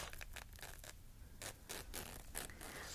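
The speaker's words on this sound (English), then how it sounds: "That's a good zipper sound." A zipper on a makeup bag is drawn slowly in short rasping bursts, quiet and close, with no voices.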